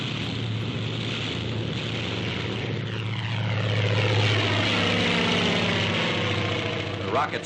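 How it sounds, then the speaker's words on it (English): A Typhoon fighter plane diving at high speed, its propeller engine roaring loud and steady with a rising, pitch-shifting sweep as it passes, a dense continuous drone throughout. "the airplane, which dives at 470 miles per hour"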